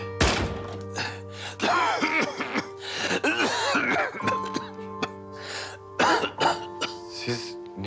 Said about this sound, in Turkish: Siz niye bu kadar öksürüyorsunuz baba?